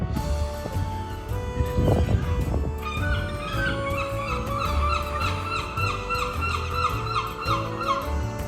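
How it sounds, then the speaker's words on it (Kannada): Geese honk repeatedly on a walk through Forres in Scotland, a busy chorus of nasal calls in quick succession over outdoor ambience, fairly close and steady throughout. "ಪಕ್ಷಿಗಳು ಜಾಸ್ತಿ ಇಲ್ಲಿ."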